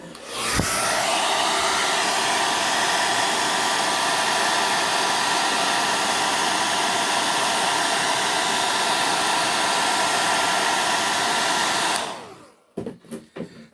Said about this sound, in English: You want to use a hair dryer. You can have it the lower setting temperature.